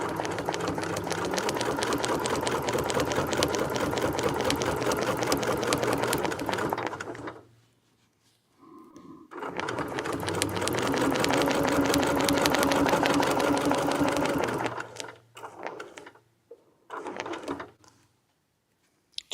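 Sewing machine fitted with a ruler foot, running in two long fast stitching bursts with a pause between them, followed by a few short stitches, near and continuous.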